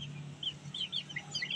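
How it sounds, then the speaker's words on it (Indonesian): Native village chickens cluck softly in short scattered bursts, close by over a low steady hum. "tuh ayam kampungnya saya simpan lagi di dalam"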